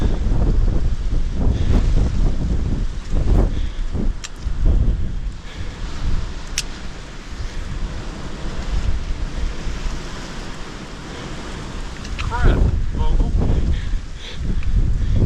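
Strong gusting wind on a mountain hiking trail in Grayson Highlands State Park, roaring and buffeting close to the microphone throughout, with brief swells and lulls.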